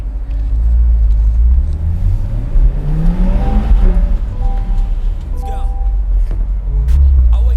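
A mid-engined Chevrolet Corvette C8 Z51 V8 revs and accelerates up close. Its deep, rumbling exhaust climbs in pitch, then settles into a loud, throaty drone.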